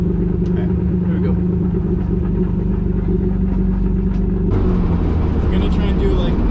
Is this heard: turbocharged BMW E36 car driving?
yes